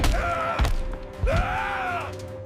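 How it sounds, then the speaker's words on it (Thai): Feet stomp heavily on the floor of a stuck elevator in a cartoon, giving two dull thuds about a second apart beneath a steady tonal background. "อย่ากระทืบเท้า"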